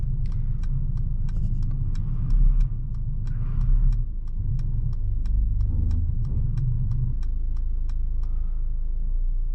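A 2022 Mercedes GLE 350 SUV parking itself in reverse, a low steady engine rumble inside the cabin with a regular ticking chime pulsing throughout and brief louder thumps.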